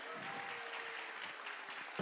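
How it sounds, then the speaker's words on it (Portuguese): An audience claps for a band at a live hypnosis stage show, a brief burst of moderate, fairly distant applause lasting about two seconds. "uma salva de palmas para a nossa banda"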